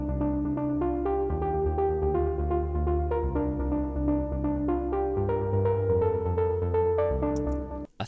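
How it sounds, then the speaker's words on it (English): Warm digital synth patch designed to emulate an analog synth plays a melodic line of sustained chords and notes, close and clear, alone, ending with a brief click. "There's a number of different ways that you can create warm sounds in digital synths"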